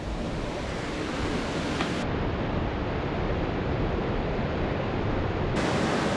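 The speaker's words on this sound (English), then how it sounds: "we have 2 streams that come together to form this river. So you see a little waterfall there." A small waterfall where two streams join into a river in Costa Rica gives a constant, broad rushing roar of falling water, steady and full throughout with no voices.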